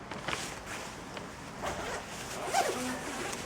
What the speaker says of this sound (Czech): rozepnout zip na bundě